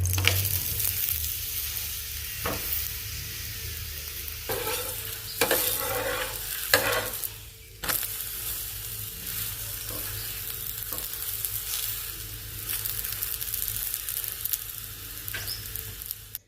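A drumstick-leaf talipattu (nugge soppu flatbread) cooks in oil on a pan, crackling with a steady close sizzle broken by several brief scraping bursts and spatula knocks, no speech.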